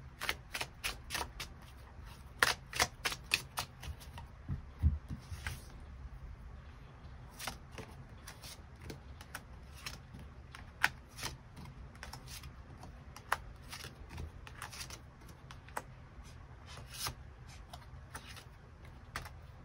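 Tarot cards shuffled and drawn by hand in a quiet reading, a steady run of soft crisp flicks and slaps at close range with no talking.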